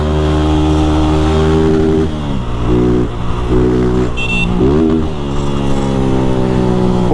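A 160 motorcycle engine revs hard while the clutch is worked, producing a loud, close, buzzing drone whose pitch repeatedly dips and climbs in short rhythmic cycles, like a stuttering melody of revs.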